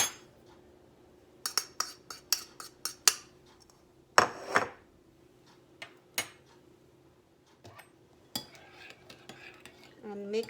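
Utensils clink and scrape against a bowl as barbecue chicken marinade with ginger root and ground black pepper is mixed, with sharp, irregular bursts of stirring and knocks separated by short pauses.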